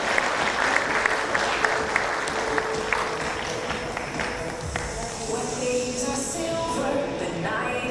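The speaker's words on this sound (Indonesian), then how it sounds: "boleh dong tepuk tangannya sekali lagi." Audience applause at a smart city solution product launch in Indonesia, a steady dense clapping from a large crowd that runs through the whole span, with a presenter's voice faintly over it.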